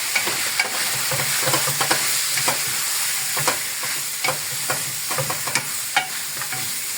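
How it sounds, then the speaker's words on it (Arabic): Black pepper being stirred into lamb and carrots frying in a single pot for Saudi kabsa: close, steady sizzling with irregular scraping clicks from the spoon, no talking. "مع الخطوه دي هرش رشه فلفل اسود زي كده ونقلب"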